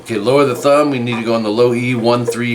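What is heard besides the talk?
None of the usual background noises is heard.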